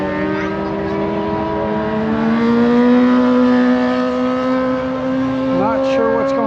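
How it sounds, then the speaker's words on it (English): Aprilia RS660 lightweight twin-cylinder racing motorcycle at the Loudon Classic road race, a steady high engine whine holding pitch with a brief shift near the end, under continuous commentary. "Eli's riding a Aprilia RS660 lightweight twin in the Classic."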